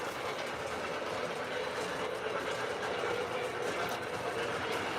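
An O scale model train runs steadily on a layout, a continuous rolling rumble with faint clickety-clack from the track, with no pauses.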